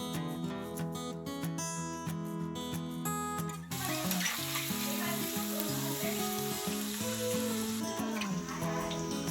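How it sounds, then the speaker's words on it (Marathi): Music plays alone at first, then a loud, crackling sizzle of garlic frying in a hot pan over medium heat takes over and continues beneath the music. "मीडियम गॅसवर लसूण थोडा फ्राय होऊ द्यायचा आहे"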